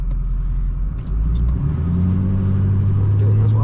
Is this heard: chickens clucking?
no